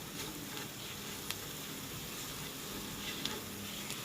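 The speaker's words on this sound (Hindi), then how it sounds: "और अब हम इसको अच्छी तरह से सारे मसाले को अच्छी से फ्राई करेंगे।" Masala spices frying in a pan, a soft, steady sizzle with faint crackles and a few light taps of stirring.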